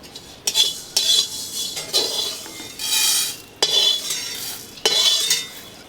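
Spices for mango pickle roast in a pan, with repeated bursts of metal spoon scraping and stirring against the pan and faint sizzling between strokes, close and without talk.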